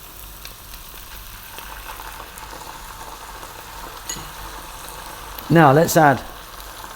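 Garlic ginger paste, fresh chilies and salt sizzle steadily in a hot pan for fish curry, a constant crackling fry with a brief voice speaking over it near the end.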